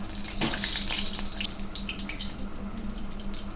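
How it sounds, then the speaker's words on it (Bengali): Dried red chillies sizzle in hot oil in a wok with a steady, close, hissing crackle that runs unbroken throughout. "এবার আমি কড়াতে আরেকটু তেল দিয়ে দেব, দিয়ে শুকনো লঙ্কা"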